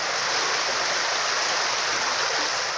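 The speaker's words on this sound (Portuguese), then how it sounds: "O barulho da água invadindo a casa dela é impressionante." Floodwater from a street flood in a neighbourhood lacking storm drains rushes steadily into a house, a loud, continuous broadband roar like a torrent with no pauses and no voices.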